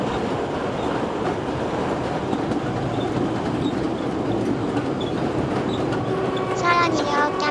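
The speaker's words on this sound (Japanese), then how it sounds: "すれ違いのトロッコ電車待ちです。" Kurobe Gorge Railway trolley train passing on rails: a continuous close rumble of wheels and carriages with faint clicking, rising slightly near the end with a brief metallic squeal.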